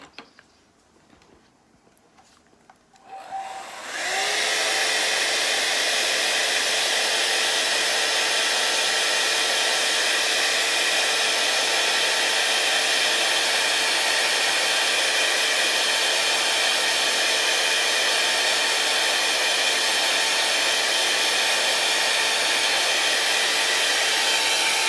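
A hair dryer blows on wet acrylic paint, switching on after a few quiet seconds with a brief rising whine, then roaring loud and constant at close range until the end.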